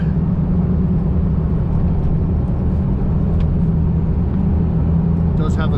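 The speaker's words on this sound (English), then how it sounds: "you can hear the tires kind of humming now" Steady, droning tire hum from a Cummins diesel pickup truck rolling down the road, loud and continuous throughout with a low rumble and a faint voice in the cabin.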